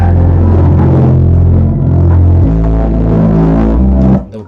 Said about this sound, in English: I added this last sound, it was just the bass.